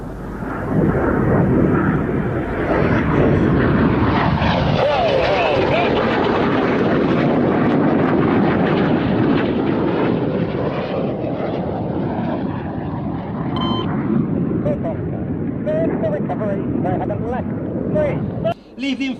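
Red Arrows display jets roaring overhead at an air show, a loud sustained jet rush that swells and shifts pitch as the formation passes, with a commentator's voice and crowd sound underneath.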